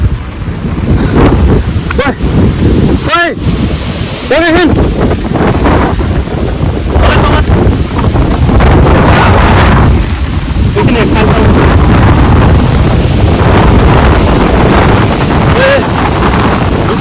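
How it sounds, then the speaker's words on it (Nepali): Strong wind buffets the microphone in loud, continuous gusts, roaring throughout, with a few voices faintly heard beneath the blowing. "आज चाहिँ यस्तो वाइल्ड हावा चलेर हाम्रो च्यालेन्जले यस्तो भङ्गै बनाइदियो"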